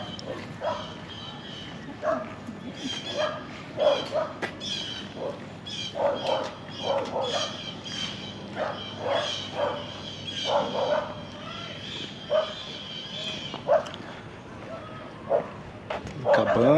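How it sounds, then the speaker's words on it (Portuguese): Small dogs bark and yip repeatedly near a campfire gathering at a Disney hotel, sharp irregular barks scattered throughout, with people talking and children's voices underneath. "Brincando com os cachorrinhos."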